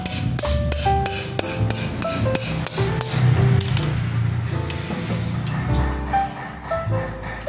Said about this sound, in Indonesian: Ini karena susah saya ketok dikit pakai palu